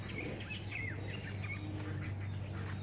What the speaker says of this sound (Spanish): Ahí andan las gualcachías.